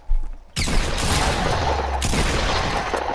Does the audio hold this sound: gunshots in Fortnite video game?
yes